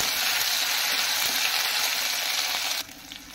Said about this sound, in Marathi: आता आपण यामध्ये घालून घेणार आहोत आलं लसूण पेस्ट।